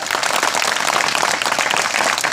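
A crowd at an outdoor Shivaji Jayanti festival claps loudly and continuously, a dense close wash of many hands with no voices over it.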